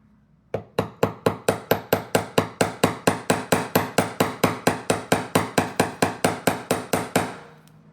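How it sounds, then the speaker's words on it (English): Wire earrings struck with a hammer on a hammering block, about twenty-five sharp, evenly spaced metallic taps in a quick steady rhythm, close and alone. "I'm going to hammer. You want to hammer these."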